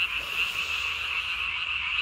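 A tree frog calls at night in a steady, dense trill that carries unbroken through the whole moment, close and fairly loud, with no voices.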